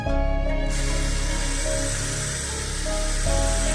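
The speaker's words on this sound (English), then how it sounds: "Spray the water on it." A steady hiss of water spray runs through, over a constant mechanical hum and whine, with no voices, while wet sanding a 1993 Acura Legend headlight.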